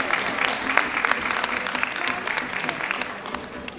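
A crowd at a prize draw in Gebze breaks into lively applause, with sharp individual claps poking through the dense clapping, and faint voices underneath.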